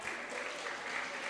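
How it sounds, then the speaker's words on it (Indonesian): A church congregation applauds the men of Sector 4 during a Sunday service. The clapping is dense and continuous, moderately loud and evenly sustained for its whole length. "Sekali lagi tepuk tangan untuk Bapak Sektor 4."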